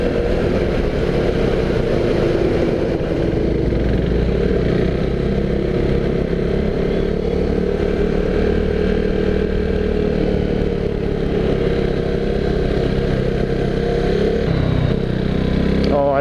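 A KTM motorcycle rides through foggy mountain twisties on the Mumbai–Chorla–Goa road, its engine a steady, close drone under heavy wind rumble that runs throughout with no clear breaks.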